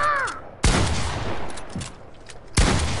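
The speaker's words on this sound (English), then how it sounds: "why are you shooting me?" Sharp game gunfire bursts in a 1v1 match crack out at close range, one volley near the start and another about two seconds later, each trailing a noisy rattle, with a brief synthetic tone at the open.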